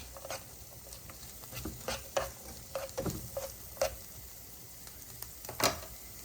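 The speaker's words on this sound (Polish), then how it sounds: "Cebulka delikatnie się zeszkliła, więc teraz dodaję czosnek. Będę to wszystko podsmażał około jednej minutki." Onion and garlic sizzle gently in a frying pan, with soft intermittent crackles and pops and a few stirring scrapes, quiet and close with no talk.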